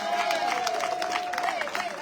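Audience applause at a municipal election conference in Sainte-Rose, a steady clatter of clapping and crowd noise across the whole stretch, with a faint sustained tone running beneath it.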